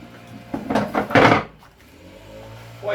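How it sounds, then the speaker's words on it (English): A window being closed indoors: a few close scraping, rattling knocks building to a firm thud, then a quiet pause and one more soft bump. "I'll close the window."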